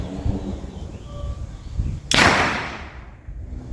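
Against a murmuring outdoor background, a 1.5-inch PVC gas bird-scaring cannon fires nearby, a single loud, sharp, forceful whooshing bang that fades over about a second.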